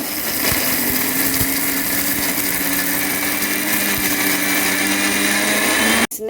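A mixer grinder whirs loudly and steadily while grinding a thick masala for a Mangalore-style sardine dish. The motor's drone holds constant, then cuts off abruptly near the end.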